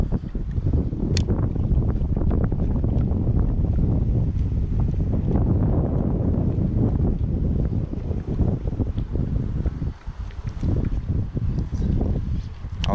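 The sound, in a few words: wind blowing at a lakeside while fishing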